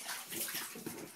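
Soft, close water sloshing and splashing as a baby plays in bathwater with bubbles in a big tub, a continuous low-level churn with small louder splashes.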